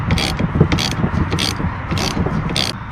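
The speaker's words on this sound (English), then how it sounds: "And remove that nut." A ratchet wrench clicking in quick bursts as it loosens a nut on the windshield wiper motor of a 2002-2009 GMC Envoy, close and crisp, five rapid clicking runs over a mechanical rubbing background.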